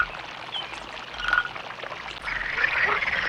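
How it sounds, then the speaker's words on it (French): A chorus of frogs croaks in a steady, trilling wash, with running water faintly beneath. "la grotte était habitée par un groupe de grenouilles, et ces bruits étranges étaient en fait leur chant."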